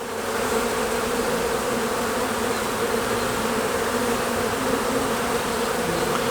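A honey bee colony buzzes continuously and densely during a hive inspection, with the brood box open; the drone stays even and close for the whole stretch, with no talking.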